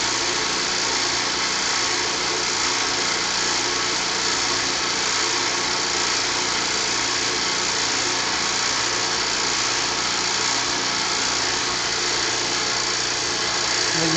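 A boring machine feeds down and begins cutting an engine block cylinder, a loud, steady machine drone with a constant hum and hiss that holds unchanged throughout.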